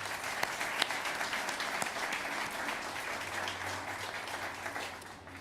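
Audience applause at a public announcement for the Acrisure Amphitheater riverfront development in Grand Rapids, a steady wash of many hands clapping that holds for several seconds and fades slightly at the end.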